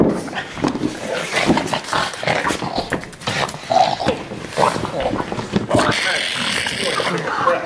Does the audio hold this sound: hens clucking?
no